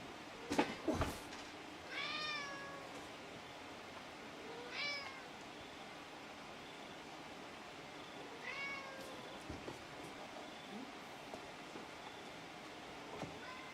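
A cat meows three times, drawn-out and fairly clear, separated by long gaps with a few soft knocks and quiet room noise.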